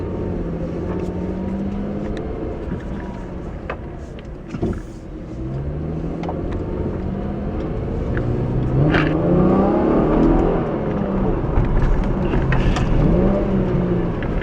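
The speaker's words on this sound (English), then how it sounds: "the exhaust system sounds so much better than a Challenger that I tested" A 2014 Chevrolet Camaro convertible 1LT engine and exhaust accelerating from inside the car, its loud rising drone climbing through several gear pulls with brief dips between shifts, alone and without speech.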